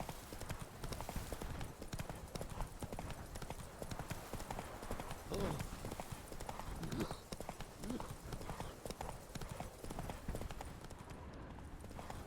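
Hoofbeats of the horse Roach in a video game, a steady, continuous clip-clop gallop that stays loud and close throughout, mixed with dense game sound.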